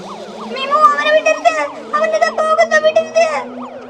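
A cartoon police siren wails in a looping up-and-down pattern, loud and close, with a child-like cartoon voice speaking over it.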